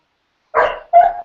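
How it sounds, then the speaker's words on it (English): A dog barks twice close to the microphone, two sharp loud barks in quick succession with silence before them. "I got my dog acting up here"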